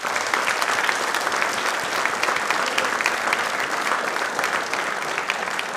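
An audience at a quiz programme claps in a steady, dense burst of applause that holds at an even level throughout, with no talking over it.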